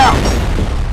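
Grenade blast in the shooter F.E.A.R.: one loud, close boom with a sharp onset that rolls into a rumbling decay, layered under a voice.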